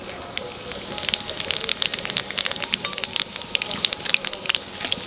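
Cumin, bay leaf and dried chilli dropped into hot oil, sizzling and crackling with sharp popping spatters throughout, close and lively.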